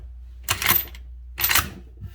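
A new Ruger-made Marlin 1895 SBL lever-action rifle in .45-70 has its lever cycled twice, each stroke a close, sharp mechanical clack-and-slide of stiff, unbroken-in steel, separated by a short pause.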